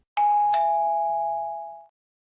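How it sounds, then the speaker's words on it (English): A two-tone ding-dong doorbell rings once in GTA Online, a clean electronic chime with the second tone ringing out and decaying over a second and a half, alone in silence. "Someone is ringing the bell."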